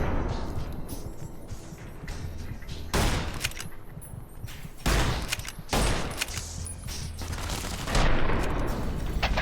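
Rapid gunfire from Fallout New Vegas during a prison riot fight, with dense bursts of shots and several louder cracks breaking through a constant wash of combat noise.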